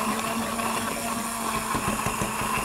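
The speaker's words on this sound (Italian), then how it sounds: "Do un colpetto di frullatore." A blender pulses a chickpea soup with prawns and clams, giving a loud, steady whirring motor drone.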